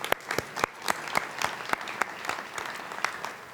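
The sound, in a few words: audience applause at reception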